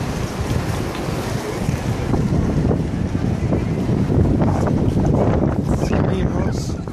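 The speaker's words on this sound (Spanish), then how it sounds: "Está haciendo viento." Wind buffets the microphone outside Kyoto train station, a steady broadband rumble and roar holding at a constant loud level for the whole stretch with no breaks.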